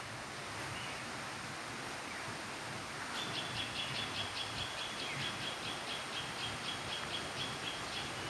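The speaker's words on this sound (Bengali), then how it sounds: "বাঁশখালী ইকো পার্কের গেটের সামনে এসে আপনি বিভিন্ন পাখির কিচিরমিচির" Various birds chirp outside the gate of Banshkhali Eco Park, a faint, quick, repeated chirping series that starts partway through over steady broadband outdoor noise.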